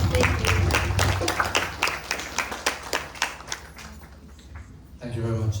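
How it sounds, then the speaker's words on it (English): An audience at a Gita Yagna memorial gathering claps in a sustained round of applause, many hands beating in a dense patter that thins and fades before a voice speaks briefly at the end. "Please give another big round of applause."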